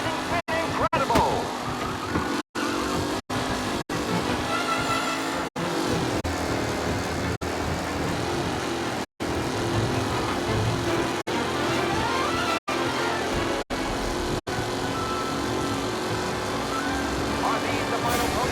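Race cars roar around the track in the video game Mafia I, engines droning continuously and loudly, with repeated brief dropouts and a commentator talking over the engine noise.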